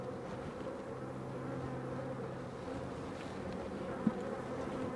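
Honeybees hum around a backyard hive: a steady, low, even drone of many wings, fairly faint and continuous, with no voices.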